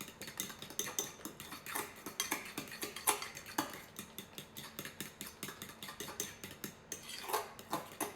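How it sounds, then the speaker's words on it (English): A spoon stirs vanilla into wet banana bread ingredients in a bowl, making a quick run of light clinks and taps against the bowl that keep an uneven, steady rhythm, fairly soft and with no voices. "And I'm just gonna mix this until it's all combined."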